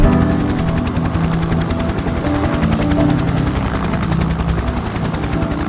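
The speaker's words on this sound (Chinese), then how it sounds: "特技飞行对直升机的性能和飞行员的技术是双重考验" A military helicopter flies aerobatic manoeuvres, its rotor thumping in a loud, rapid, continuous chop over a deep engine drone that stays strong and close throughout.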